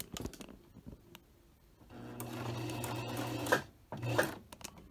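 A sewing machine buzzes through a short run of stitches in one place to tie off a buttonhole, close and steady, between quieter clicks and handling noises.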